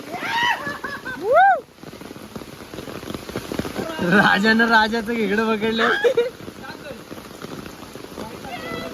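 Steady patter of heavy rain falling on surfaces in a village fills the background while people talk close by.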